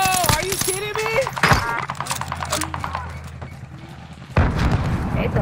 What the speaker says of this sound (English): They throwing grenades and everything.